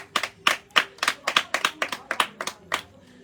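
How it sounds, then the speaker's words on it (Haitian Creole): A small group claps in an uneven rhythm, about a dozen sharp, close hand claps over a few seconds that then stop. "Badon ti bravo pour nous faire 23 moun, mes amis."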